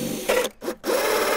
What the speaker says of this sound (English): It also comes with the hole saw to drill the perfect size holes.